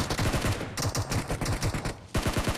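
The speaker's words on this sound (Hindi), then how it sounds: "सब ऐसी गोली चला रहे" Rapid bursts of gunfire in the video game Battlegrounds Mobile India crackle continuously, a dense spray of shots with a brief gap before another volley starts up.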